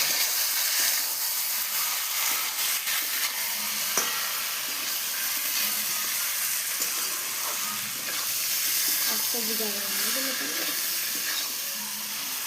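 Meat sizzles and hisses steadily in a hot pan while being stirred, a continuous close frying crackle with occasional scraping and a faint voice in the background.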